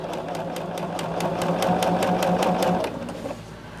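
A sewing machine stitches binding onto a cotton quilt, its rapid rhythmic needle clatter close and loud for about three seconds before it slows and stops. Nobody speaks.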